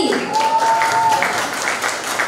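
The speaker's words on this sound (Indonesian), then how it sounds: "Tepuk tangan sekali lagi" Audience applause in a meeting hall, a steady, fairly loud patter of clapping with a brief whistle-like tone early on and some voices underneath.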